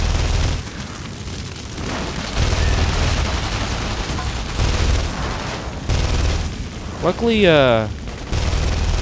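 Machine gun fire in The Saboteur comes in repeated heavy bursts, loud booming clusters with short gaps between them, alongside a brief rising whistle-like sweep and a voice speaking briefly.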